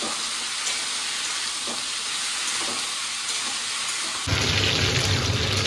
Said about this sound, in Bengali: কচু ভাজা হচ্ছে,